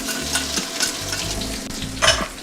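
Chopped garlic, ginger and green onion whites frying in oil in a pan, a close, steady loud sizzle with stirring scrapes and a brief flare near the end, no voices.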